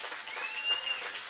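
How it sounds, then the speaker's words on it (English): A church congregation claps in steady, moderately distant applause that holds evenly throughout, with no voices rising above it. "Give God a round of applause if you believe that."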